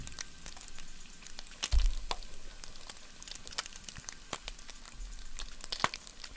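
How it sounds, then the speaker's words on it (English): Meat sears in a hot frying pan with steady crackling sizzle and scattered sharp pops, a soft thud near the start, moderately quiet and close. "Turning the heat down a bit, we've got a nice sear on both sides now"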